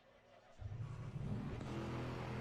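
An Aston Martin race car in Assetto Corsa Competizione revs up suddenly from near silence, its deep, snarling engine rumble holding loud and steady.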